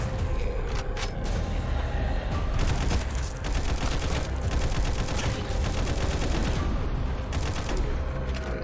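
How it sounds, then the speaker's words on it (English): Automatic weapon fire in the video game Frontline Zed, loud sustained bursts of rapid gunshots rattling on without pause over a busy background of game noise. "Finally have an automatic weapon."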